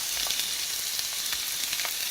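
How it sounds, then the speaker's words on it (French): Onions and leeks frying in a pan, a steady close hiss and crackle of sizzling oil with small pops scattered throughout, loud and continuous, no voices. "je vais faire revenir mes oignons"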